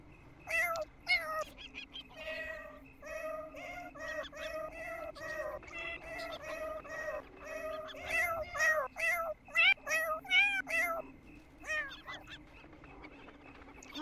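Cats in The Sims 4 video game meow repeatedly in a busy, overlapping series of short calls, some harsh and honking, growing denser toward the end over a low steady background.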